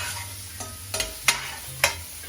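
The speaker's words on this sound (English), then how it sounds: "you fry up these mushrooms because they do have some moisture in them" A soft sizzle of bella mushrooms frying in a pan, broken by several sharp scrapes and clinks of a utensil stirring, with a low hum underneath.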